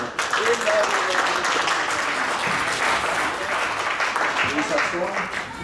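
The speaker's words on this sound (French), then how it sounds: "Acclamons le Seigneur." A church congregation at a Sunday service applauding, dense continuous clapping from a crowd filling the room, with voices heard through it.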